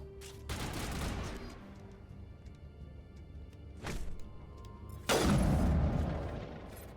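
Gunfire in the sci-fi shooter game Mass Effect on the Citadel: a few scattered sharp shots and booms with quieter pauses and faint tones between them, ending in one loud, heavy blast that fades out.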